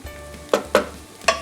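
Cauliflower fries in bacon grease in a pan: a steady sizzle is broken by three loud scraping stirs in quick succession, with no one speaking.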